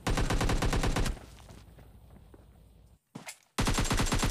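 Gunfire in the PUBG Mobile Lite video game: loud rapid automatic bursts open the clip, fade into quieter game ambience with a brief shot, then resume as another sharp rapid volley.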